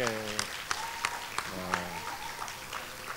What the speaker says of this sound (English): I think you clap a bit louder.